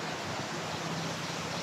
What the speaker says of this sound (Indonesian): Oh, air terjun. Tengok ni.